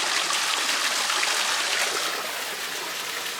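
Water from a small waterfall on a forest hiking trail pours steadily, a constant bright rushing hiss with no pauses, fairly close.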